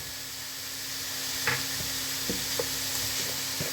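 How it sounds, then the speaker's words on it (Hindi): Garlic and ginger paste frying in a pan for a mutton keema samosa filling, with a steady low sizzle and a few soft scrapes and taps of a spoon stirring, close and without talk. "मैंने इसके अंदर लहसुन और अदरक डाल के इसको अच्छी तरह से भून रहा हूँ"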